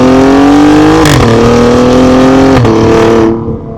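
An Alfa Romeo Giulia Quadrifoglio engine drones loudly in dynamic mode, a steady, close, in-car roar with two quick shifts in pitch before the sound drops away at the end.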